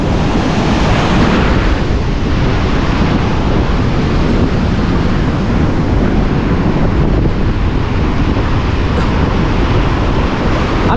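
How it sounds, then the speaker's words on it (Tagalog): Heavy surf roars steadily and loudly throughout, a continuous rushing wash of big waves mixed with wind buffeting the microphone. "Grabe, dambuhala ang mga alon."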